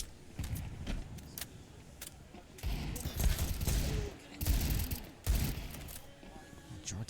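Pistol fire from a Counter-Strike 2 match comes as irregular clusters of sharp, loud shots and impacts over several seconds, mixed with footsteps and clattering game effects.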